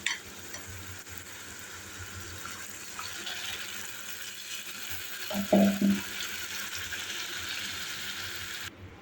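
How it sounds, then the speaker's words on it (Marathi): Water is poured into garlic chutney in a hot pan with methi, cumin and hing, and it sizzles. A steady frying hiss gives way to a brief louder splash and bubbling near the middle, then settles back. "थोडंसं पाणी घालूया आपण"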